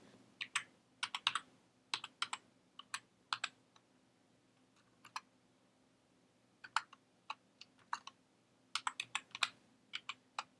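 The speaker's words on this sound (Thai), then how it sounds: "อันนี้ผมก็จะพิมพ์เข้าไปว่า อ่ะก็พิมพ์อะไรก็พิมพ์นะครับ" Typing on a computer keyboard, quiet close key clicks in irregular bursts with short pauses between them over a faint steady hum.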